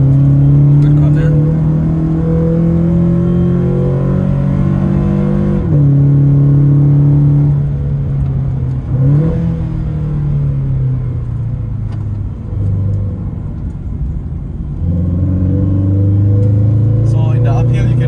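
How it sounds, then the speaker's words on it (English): A Toyota 86 climbs uphill with its engine droning loud and close, a steady low growl that rises and falls in pitch as the revs change. A brief drop comes near the middle, and someone talks over it now and then. "So in the uphill, you can really feel that this car is lacking the power."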